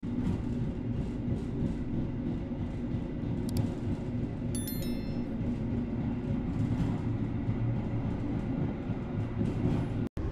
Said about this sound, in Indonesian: Kereta api Bima yang saya naiki sudah diberangkatkan kembali dari kota Cirebon.